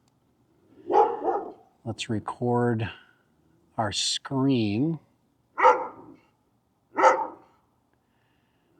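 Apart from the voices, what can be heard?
dog barking at a drone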